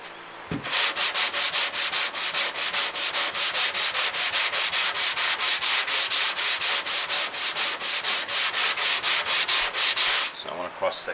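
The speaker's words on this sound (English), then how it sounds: "Just let the sandpaper do the job." Sandpaper is worked by hand over a drift car body panel in rapid, even back-and-forth strokes, a close and steady rhythmic scratching that carries on for about ten seconds with no talking.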